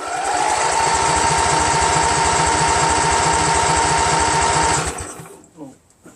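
A Briggs & Stratton Vanguard 16HP engine on a Craftsman GT6000 garden tractor cranks over steadily and loudly with a rhythmic chugging churn for several seconds, then cuts off abruptly, leaving faint voices and quiet.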